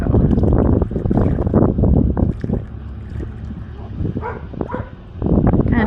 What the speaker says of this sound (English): Kind of breezy on the lake